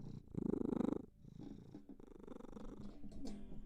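Close-up purring from a pet cat, a soft throaty rumble pulsing strongly at first, then continuing more faintly beside small shuffling noises.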